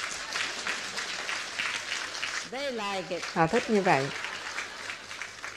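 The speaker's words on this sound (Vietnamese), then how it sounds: "Chỉ một vụ đổ xăng như vậy thôi thì lại vỗ tay." Onlookers clap after a car refuelling in Malaga, a broad steady patter of applause running under a voice throughout.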